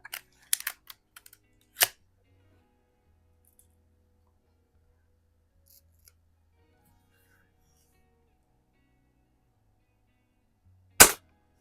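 An 1892 Markham King BB gun shoots at an aluminum can, with a few sharp clicks and snaps early on, then long quiet and one more sharp crack near the end; faint low voices murmur between.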